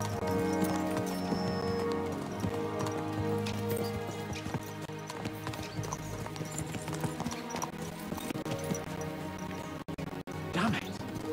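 Hooves of several horses clip-clop in a steady galloping rhythm in a video game, close and loud, with game music and speech-like voices running underneath.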